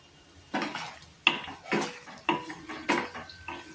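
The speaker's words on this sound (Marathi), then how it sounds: "आता त्यामध्ये टाकूया आपण शेंगदाणे." A spoon scrapes and clanks rhythmically in a pan of cooking potatoes, onions and chillies as peanuts go in, repeated metallic strokes close up with no voices.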